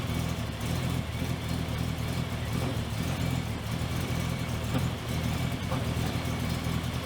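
A Toyota 80 series Land Cruiser with a 1FZ-FE engine idling, a steady low rumble with a slightly uneven beat that runs continuously and fairly close.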